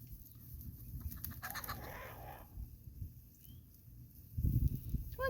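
Chickens let out of their coop after strong wind cluck and call softly nearby, in scattered bursts against a quiet outdoor background, with a louder rustle near the end.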